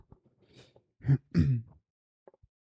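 Two short, rough coughs, or a throat clearing, close by in a quiet room, followed by a few faint clicks.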